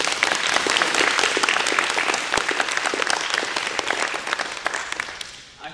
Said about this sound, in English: if I could ask you for a round of applause for those people